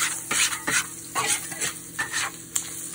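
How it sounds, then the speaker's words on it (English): Garlic and a little turmeric sizzle in a pan for a ham and eggs breakfast, a bright crackling fry punctuated by several quick scraping stirs of a utensil, close and fairly loud, no speech. "So I just put in my garlic and a little turmeric."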